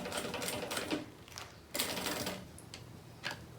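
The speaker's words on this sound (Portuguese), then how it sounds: "eu venho aqui na máquina, ó, coloquei centralizadinho. Olha só, e vou costurar ele aqui." A sewing machine stitches a fabric bag in quick bursts of rapid, rattling mechanical clatter, stopping and restarting several times at moderate loudness.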